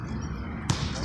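A basketball shot swishes through the net during shooting practice, a single short, soft rush of netting that stands out briefly against a low, steady background.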